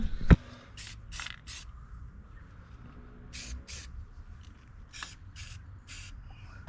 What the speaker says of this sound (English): Alright, we can start spraying this.